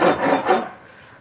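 A Wataoka rasp files a gouge into the side of a wood piece, giving two rough, rasping strokes close up with no talking.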